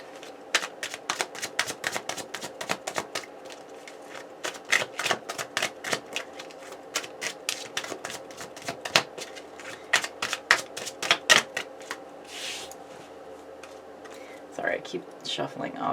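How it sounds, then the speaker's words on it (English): Rapid riffling of a deck of cards repeated in quick flurries, crisp and close, followed by softer handling and a few quiet murmurs. "Sorry, I keep shuffling off screen."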